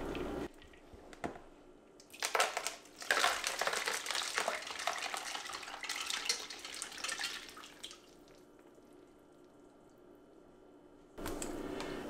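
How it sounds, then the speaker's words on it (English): Water pours and splashes over mackerel packed with ice in a container for cold smoking, a steady rushing stream lasting several seconds before stopping, with quiet gaps on either side. "Let's add some more water."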